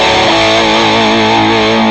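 Electric guitar through Amplitube 5 amp simulation with the delayed second amp switched off, a sustained distorted chord ringing out steadily and loud on its own, in a live tone.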